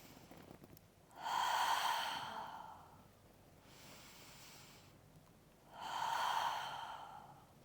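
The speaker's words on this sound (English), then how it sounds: "So inhaling, you're going over. Exhale, drawing those abdominals in." Deep breathing during a Pilates core warm-up: two long, strong, airy exhales with a softer breath between them, close and unhurried, with no talking.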